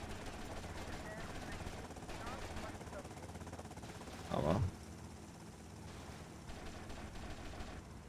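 A short burst of machine-gun fire from the GTA Vice City video game (The Trilogy Definitive Edition) cracks out once, loud and close, over a steady engine drone.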